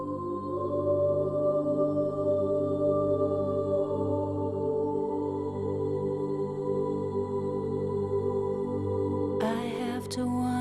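A snippet of music from an album plays at moderate volume with sustained tones and a steady pulse, and a brief brighter burst enters near the end.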